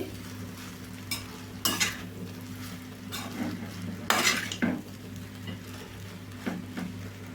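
Mango pulihora rice is mixed with salt in a pan, giving repeated scraping and clinking stirs of a spoon against metal. The strokes come at irregular intervals over a faint low background hum.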